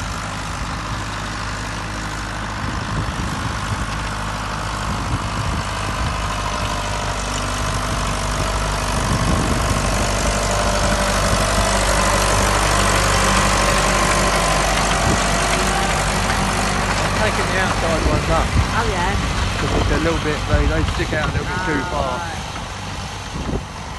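A tractor engine idles steadily with a low, continuous rumble throughout, rising slightly in the middle, while a person talks over it near the end.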